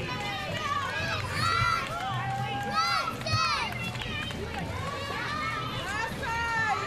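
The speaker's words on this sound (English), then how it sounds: "We are Redskins is what they were cheering." Cheerleaders shouting a chant at a small-town autumn parade, their high voices overlapping in bursts amid a busy outdoor crowd, fairly loud and continuous throughout.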